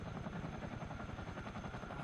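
A CH-47D Chinook helicopter in a flight simulator game gives a steady, close rotor thump with a dense engine drone, rhythmic and unbroken across the short span.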